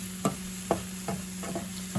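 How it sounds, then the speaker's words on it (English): Organic spring garlic and white mushrooms fry in olive oil, giving a steady low sizzle broken by about five soft stirring scrapes of a utensil in the pan, close and fairly quiet, with no talking. "So this is organic spring garlic and organic white mushrooms."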